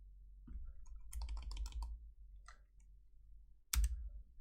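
Someone types on a computer keyboard with quiet, irregular bursts of keystroke clicks, then a single louder thump near the end.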